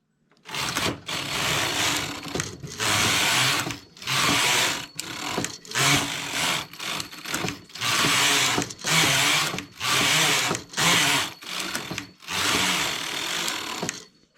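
A domestic knitting machine carriage is pushed back and forth across the needle bed, knitting plain rows for a neck scarf: loud, close mechanical whirring sweeps of roughly a second each, separated by brief pauses, with no talking.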